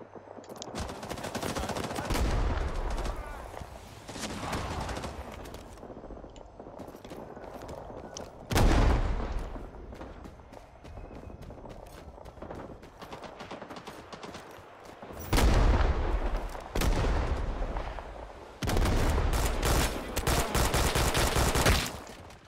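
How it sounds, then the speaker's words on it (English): Submachine gun fire in the jungle shooter Rising Storm 2, with rapid automatic bursts and single shots spread across the stretch and several loud, close bursts near the end, plus scattered distant gunfire in the background. "It is a bit annoying that the submachine gun is not accurate up to even 100 meters"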